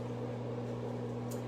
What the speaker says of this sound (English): So we have microwave going